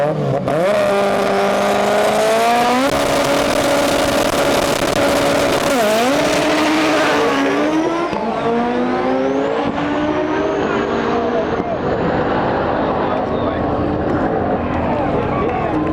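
An all-wheel-drive 1300 hp turbocharged K20 Honda Civic launches at a drag race, its engine screaming loudly with rising pitch sweeps as it spins its tires off the line and pulls away, fading toward the end, with talk over it.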